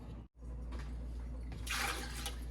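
Seven cups of water poured into a pot for strawberry pie filling: a steady rushing splash that runs continuously, swelling brighter and louder toward the end, with no talking over it.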